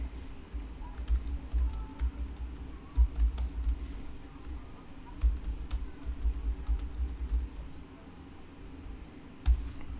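Code being typed on a computer keyboard at a steady, uneven pace: close, crisp key taps and heavier thumps, likely the space or enter key, with no one speaking.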